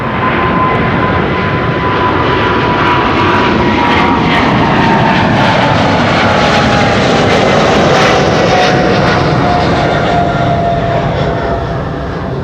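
A jet airliner departs Amsterdam Schiphol on runway 24, the Kaagbaan, a loud, continuous engine roar that holds steady throughout with a faint whining tone running beneath it.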